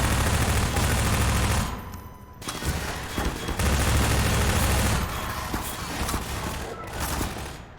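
Heavy, continuous automatic gunfire from Half-Life, loud and close, with rapid overlapping shots, brief lulls and a few booming hits.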